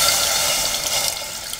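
Hot water pours steadily over chicken pieces in a cooking pot for a tagine with olives, a continuous close splashing stream with no talk.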